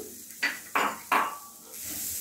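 Grated coconut roasting in a pan for a Kerala-style chicken curry, with three quick scraping stirs of a spoon against the pan, followed by a soft steady sizzle.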